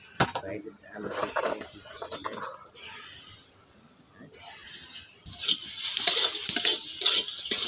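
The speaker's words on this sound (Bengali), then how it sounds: "পেঁয়াজ রসুন ভাজা হয়ে গেছে" Onion and garlic fry in a pan for a village-style jongli kochu fish curry, with scraping stirs and clinks through the first part before a loud, bright sizzle swells steadily for the last couple of seconds.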